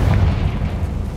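A Confringo blasting spell from Hogwarts Legacy goes off as a deep, rumbling boom that fills the moment and stays loud throughout, with no voices over it.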